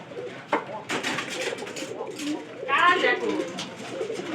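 Soft cooing from a pair of pigeons being released from a cage rises in a burst midway, mixed with rustling and handling noises under a faint voice nearby.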